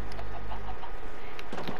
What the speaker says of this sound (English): Oh, there's three chickens.